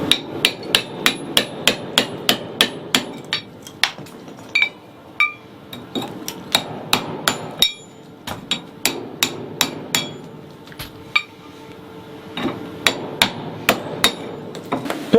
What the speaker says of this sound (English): we'll take a chisel and a hammer, and we'll remove all the excess cement that's inside.